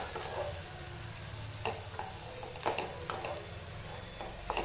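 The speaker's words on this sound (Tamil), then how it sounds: "முட்டை சேர்த்துட்டு நான் நல்லா கிளறி விட்டுட்டேன்" Egg being stirred into fried rice in a hot pan, soft continuous sizzling with intermittent scraping and clinking strokes of a spoon against the pan, close and moderately quiet, with no talking.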